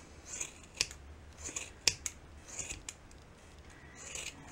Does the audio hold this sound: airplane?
no